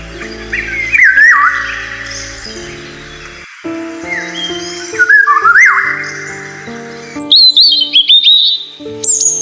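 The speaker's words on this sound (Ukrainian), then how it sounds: "послухайте звуки спів перелітніх птахів України" Migratory birds of Ukraine sing in clear, close phrases: bright rising whistles and chirps repeated in short bursts, with a higher trilling song near the end over a quiet background.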